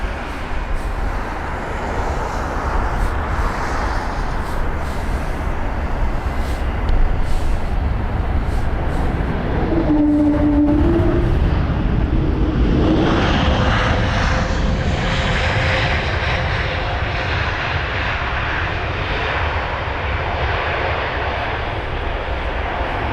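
A Swiss Airbus A320neo arriving from Zurich lands at London Heathrow, its broad engine roar steady and close throughout, with a brief whining tone partway through as it passes and a shifting rush of air afterward.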